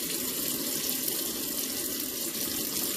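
Warm water runs steadily from a faucet into a sink for washing a knife, a continuous close splashing hiss throughout with no pauses.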